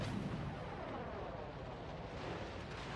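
In a naval video game, mortar rounds strike a ship's hull in a dense, rumbling barrage of muffled booms and crackling impacts. The noise is continuous and fairly quiet, with no distinct single hits.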